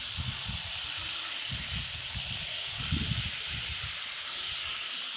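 Marinated chicken sizzles as it is sautéed with onions in a pan, a steady close hiss with soft intermittent stirring bumps underneath.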